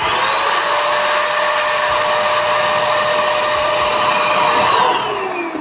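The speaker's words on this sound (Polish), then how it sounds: "dźwięk jak pospolitego domowego odkurzacza. Dosyć mocno to zmucha." A Wagner W550 electric paint spray gun runs with a loud, steady whine much like a household vacuum cleaner, holding constant before its pitch drops as the motor winds down near the end.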